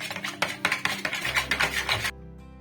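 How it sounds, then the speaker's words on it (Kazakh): A spoon stirs salt into warm water and an egg in a bowl for Kazakh dough, giving a run of close, brisk clinks and scrapes against the bowl before it falls quiet. "125 грамм жылы суға 1 жұмыртқаны қосамыз. Жарты шай қасық тұзды қосып араластырамыз."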